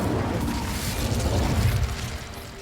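Incendio fire spell cast in Hogwarts Legacy, a rumbling, roaring whoosh of flame with booming crackles that swells and then tapers off.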